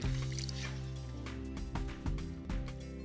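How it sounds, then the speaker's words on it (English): Couscous cooking in water or broth gets stirred in a pot, giving soft wet squishing and dripping sounds close up, with a few sharper scrapes spaced through the quiet stirring. "Keep stirring because it starts cooking almost immediately."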